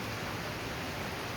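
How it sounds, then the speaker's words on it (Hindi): Heavy rain pouring down steadily during a downpour in a landslide-hit hill area, a dense, even hiss with no break and no voices. "बहुत तेज़ बारिश हो रही है"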